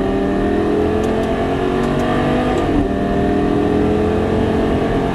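A Lamborghini Gallardo engine pulls hard on a race track, a loud, steady sustained roar with rising harmonic tones as the car accelerates, the note shifting briefly mid-clip before continuing to climb.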